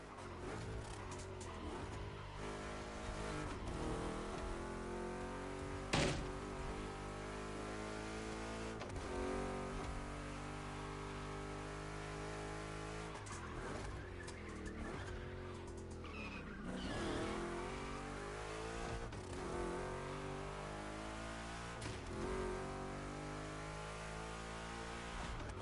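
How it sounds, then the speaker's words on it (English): Two big-block Chevy cars race in The Crew Motorfest, engines roaring continuously with shifting revs, tires squealing through corners and a sharp bang partway through, loud and steady with no talk. "Two Chevys, two big blocks, but only one winner."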